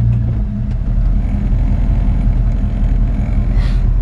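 A 1936 Chevrolet half-ton truck drives along with a steady, loud low engine rumble and road noise throughout, without a break.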